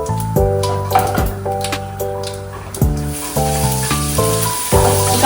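Garlic sizzles in hot oil with whole spices, a faint steady frying hiss under loud music with sustained tones.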